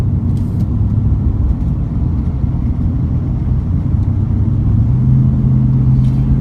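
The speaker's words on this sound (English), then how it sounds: "Look at all this traffic." Steady road traffic rumbles near a cruise ship terminal at Cocoa Beach, a loud continuous wash of car engines and tire noise heard from inside a vehicle with no talk.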